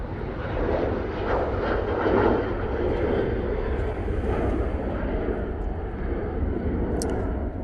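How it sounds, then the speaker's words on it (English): A Ryanair airliner bound for Katowice, Poland departs from Manchester Airport, its engines a broad, rumbling roar that holds steady from a moderate distance throughout. "There goes the Ryanair off to Poland."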